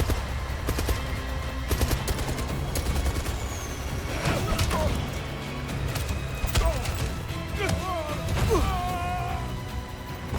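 Gunfire in the spy action video game 007 First Light, sharp repeated shots in bursts over a busy, noisy game soundscape with music and effects throughout.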